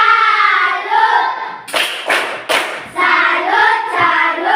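A group claps a rhythmic tepuk salut cheer, three sharp bursts of hands in quick succession, amid voices chanting in unison before and after.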